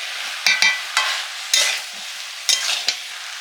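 Roasted spices of coriander, radhuni, fennel and dried chilli being stirred into mixed garden vegetables frying in a pan: a steady sizzle broken by several sharp scraping strokes of the spoon, close and clear with no talk.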